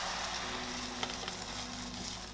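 Beaten egg for a breakfast omelette frying in a pan, a steady, close, dense sizzle that holds evenly throughout with a few faint taps, no voices.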